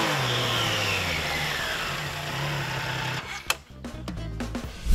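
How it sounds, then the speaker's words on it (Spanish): A Triumph Trident 660 three-cylinder motorcycle engine revs and accelerates, a steady mid-pitched drone that climbs and then breaks into sharper gear-change bursts and revs near the end, loud and close with no talk. "Nos ha gustado el tacto y sonido de su tricilíndrico"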